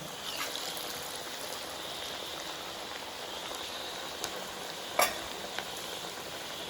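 Onion vada (ulli vada) fry in hot coconut oil with a steady, dense sizzle throughout, broken by one sharp utensil clack and a couple of faint taps.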